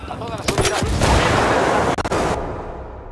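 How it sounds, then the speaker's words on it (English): Mortar rounds and gunfire burst loud and close in the Ghost Recon Wildlands video game, a rapid cluster of heavy booming impacts and cracks over about two seconds before trailing off. "Uh-oh, mortar, get out of that."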